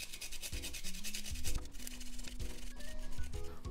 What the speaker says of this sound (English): Then as the last thing, we're gonna grate the ginger.